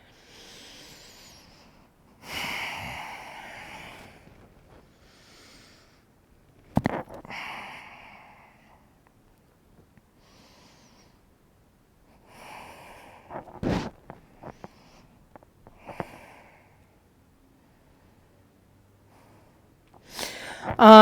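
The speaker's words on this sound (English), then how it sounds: "We're going to take 3 more long breaths." During a yoga pose, a person takes a few long, slow breaths through the nose, soft hissing inhales and exhales spaced several seconds apart with quiet pauses between, heard close in a still room.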